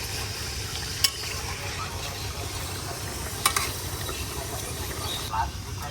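Desi chicken pieces frying lightly in a pot for biryani, a steady soft sizzle with a few sharp stirring clinks, heard fairly close and continuous.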